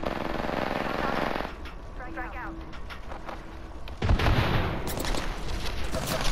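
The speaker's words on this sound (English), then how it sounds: "Getting shot by a whole nother squad, that's just dumb" Bursts of automatic gunfire from an enemy squad in a shooter video game, dense and loud in the opening stretch, then dropping back before a heavy, close barrage returns, with game noise throughout.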